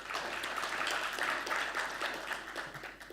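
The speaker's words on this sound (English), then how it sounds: "Give applause for him." Audience applause at a conference session on MSME empowerment in Indonesia, moderately loud continuous clapping from a crowd lasting about three seconds.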